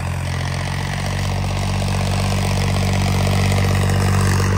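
A John Deere 5038D turbo tractor engine running steadily, a loud, constant diesel drone with a strong low throb that holds unchanged throughout.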